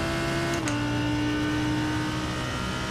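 A GT3 race car in the iRacing sim holds a steady, loud engine drone at Sebring. The pitch steps down briefly at a gear change into sixth, then climbs again, with no talk.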